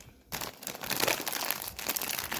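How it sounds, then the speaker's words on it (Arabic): A plastic snack bag is torn open close by, with a short burst of crisp crinkling and tearing noises and no talk. "نفتح رابع كيس"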